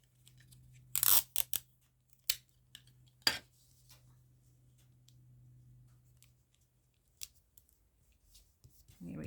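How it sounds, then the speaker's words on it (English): Tape is pulled and torn during paper collage work: a few sharp, rasping bursts of a second or less, close and fairly loud, separated by quiet stretches over a low steady hum. "Just a bit of tape."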